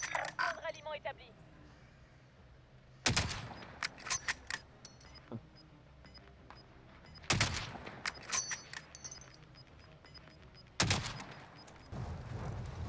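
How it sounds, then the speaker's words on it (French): Gunfire in Call of Duty Warzone Pacific: three loud bursts of rapid shots around 3, 7 and 11 seconds, each followed by scattered single cracks and clanks, with game ambience between them. "Ah, c'est où ça tire? Ah, ça tire en bas,"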